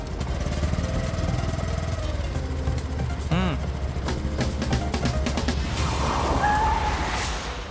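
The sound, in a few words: motorbike engine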